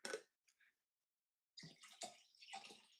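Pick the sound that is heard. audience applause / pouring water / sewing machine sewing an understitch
pouring water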